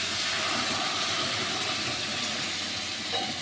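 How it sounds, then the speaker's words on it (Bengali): Eggs boiling in a pot on a kitchen stove give a steady, close, full hiss of bubbling water and steam that runs on without a break and without talk. "এদিকে আমার মেয়ের ডিম সেদ্ধ হচ্ছে"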